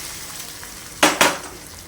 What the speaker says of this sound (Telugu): ఆ ఆయిల్ పోసేస్తున్నాను.